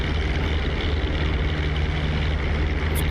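A World War II-era propeller warbird in the DCS flight simulator roars through its takeoff run, a loud, steady engine drone with a constant low hum throughout.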